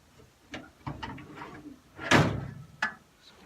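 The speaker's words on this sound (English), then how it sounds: "I'm going to pull out the bottom tray." A bottom tray slides out of a running wood-chip smoker with a few scraping knocks, capped by one loud metallic clatter near the middle and a sharper knock shortly after, close and clear with no talking.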